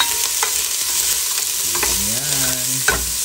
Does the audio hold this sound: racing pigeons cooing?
no